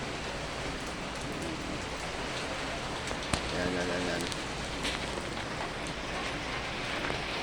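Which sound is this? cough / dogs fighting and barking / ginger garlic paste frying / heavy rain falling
heavy rain falling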